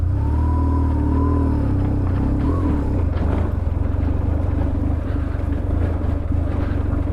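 BMW R1150GS Adventure motorcycle ridden off-road, its engine a steady, loud, close drone with a slight pitch rise early on, continuous throughout with no talk over it.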